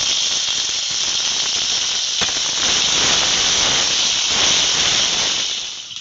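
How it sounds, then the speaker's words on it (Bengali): Cut potatoes hit hot oil in a pan for a vegetarian mixed-vegetable chhokka, giving a loud, steady, continuous frying hiss that holds for about six seconds and fades slightly at the end, with no talking. "এবার দিয়ে দিচ্ছি কেটে রাখা আলু।"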